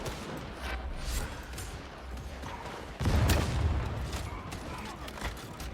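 Gunfire in Warhammer 40,000: Darktide, with a dense rolling volley of shots and a heavier boom partway through over a cluttered game soundscape.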